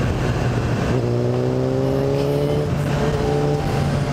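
A Suzuki 650 Bandit motorcycle engine runs loud and close, its revs rising and holding with a steady, rough drone throughout.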